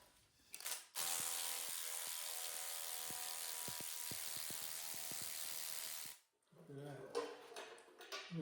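Pneumatic-style battery impact gun whirring steadily for about five seconds with sharp repeated hammering bursts, removing the timing cover from a 1970 GMC C2500 engine; the battery is weakening, and a voice speaks briefly before and after.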